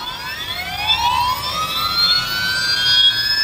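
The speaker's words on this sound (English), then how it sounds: "Wow, it really does sound like a turbo engine, but it's not, it's just a key machine." An Xhorse Dolphin XP007 key-cutting machine motor revs up, a loud, rising whine with several climbing tones like a turbine spooling, heard alone.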